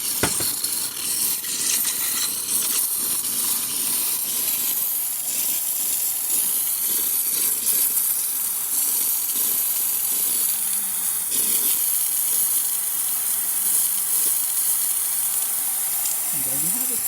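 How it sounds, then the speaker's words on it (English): A La Pavoni espresso machine vents steam, a steady loud hiss held for the whole stretch, with some low mechanical noise underneath. "You can see we have some pressure, so it's a little bit of steam now."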